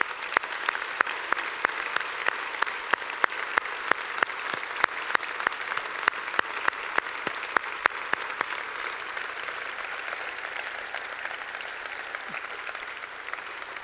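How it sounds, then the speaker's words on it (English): Applause from an audience at a military medicine awards ceremony for the honorees, steady clapping with distinct sharp nearby claps standing out, gradually thinning over about fourteen seconds. "Please join me for one last round of applause for all of tonight's honorees."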